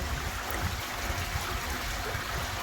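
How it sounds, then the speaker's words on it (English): Water drops into a koi pond filter fitted with a filter pad and splashes continuously, a dense steady trickling wash heard close up with no voices. "the water drops in and it splashes a bit"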